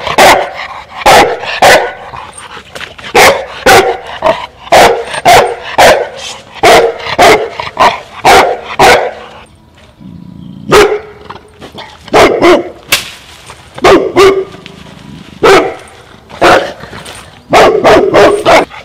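A Cane Corso dog barks in loud, repeated bursts during an aggression test, the barks coming in rapid volleys with a brief lull in the middle before resuming close by.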